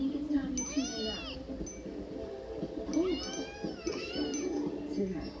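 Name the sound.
cats meowing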